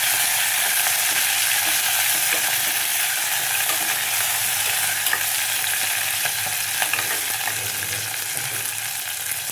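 Fenugreek leaves roast and stir-fry in a hot pan for a Sunday home-cooked curry, giving a steady, close sizzle with scraping stirs and small clicks throughout, no voices.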